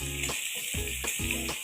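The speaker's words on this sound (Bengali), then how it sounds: "এই যে এরকম উল্টে পাল্টে ভেজে নেবো বেশ সুন্দর করে, একদম বাদামি কালার করে ভেজে নেব।" Pieces of pointed gourd (potol) fry in hot oil while being turned until browned, giving a constant close sizzle with soft bubbling pulses and no speech.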